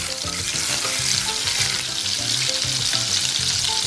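Butter melting in a hot pan for homemade bolognese lasagna, a loud, continuous close-up sizzle and bubbling frying sound with no voices.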